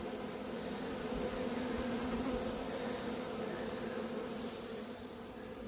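A small swarm of Italian honeybees gives off a dense, steady buzzing hum that fills the whole stretch evenly, loud and close, with no talking.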